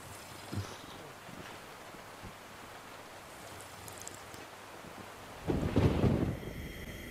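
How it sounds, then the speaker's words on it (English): Rain and thunder in the survival game DayZ: steady hissing rainfall with a rolling thunder crack swelling near the end, no voices. "It's got to stop raining at some point."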